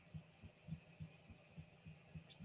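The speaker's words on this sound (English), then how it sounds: "You hear the heartbeat." A steady heartbeat thumps in a regular rhythm, about eight low beats over a faint electronic hum, coming from a camera while watching the sky for aurora.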